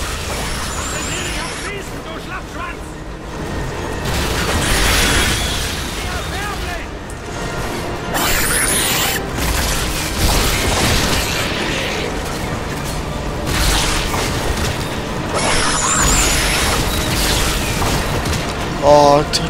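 Enemies shooting amid explosions in Bulletstorm: rumbling booms and clattering shots rise and fall in waves over a busy mechanical din, with someone speaking over the action.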